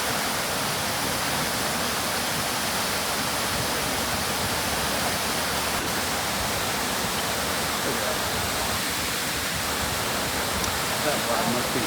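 Icy winter stream in Cuyahoga Valley National Park rushing steadily, a dense, constant broadband wash of flowing water close by with no pauses.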